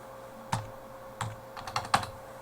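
A few sparse keystrokes on a computer keyboard: single taps, then a small cluster of quick clicks, quiet and close against a faint steady hum.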